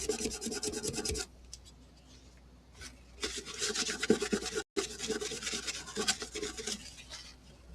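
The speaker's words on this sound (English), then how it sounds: "And one more little wet sand." Wet sandpaper rubs back and forth over the finish of a cracked ukulele body in steady rasping strokes, close up, with a quieter pause in the middle before the scrubbing resumes.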